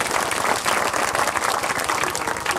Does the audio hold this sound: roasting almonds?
no